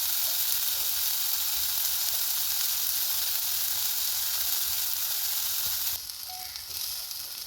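Chili powder masala fries with a splash of water in a pan, giving a steady, loud, close sizzle throughout that drops a little in the final stretch.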